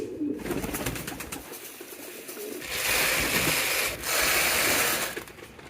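Exhibition pigeons in a loft, a male trying to pair with a female, cooing with low throaty calls amid mechanical rattling and clicking, then two long steady stretches of broad hissing noise, close by.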